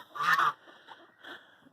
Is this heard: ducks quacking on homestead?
yes